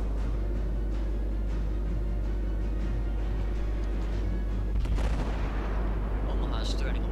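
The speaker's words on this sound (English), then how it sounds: "Fire high explosive, clean the tubes." A Cleveland cruiser fires high-explosive shells in the naval game World of Warships, with heavy booming gunfire over a constant low rumble and a sharper blast burst near the end.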